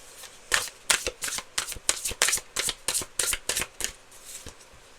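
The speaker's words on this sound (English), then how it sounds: "One more shuffle." A deck of tarot cards riffled and shuffled repeatedly in quick bursts, crisp and close, with brief pauses between flurries.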